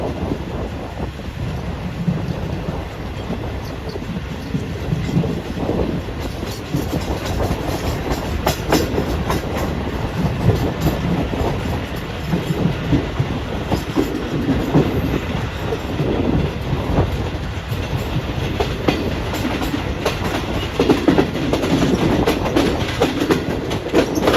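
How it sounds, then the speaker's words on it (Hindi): Goods train rolling into a railway station in Punjab, a loud, close, continuous rumble with repeated clanking wheel beats and rattling wagons sustained throughout, no speech. "ट्रेन भी आ रही है, गुड ट्रेन है"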